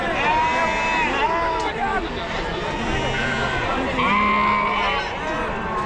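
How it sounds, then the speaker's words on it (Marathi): Sheep bleating in a crowded goat and sheep market in Chakan, Maharashtra, the largest in the state, several overlapping calls near and far over steady crowd babble and chatter. "भरपूर मेंढ्या आहेत बघा"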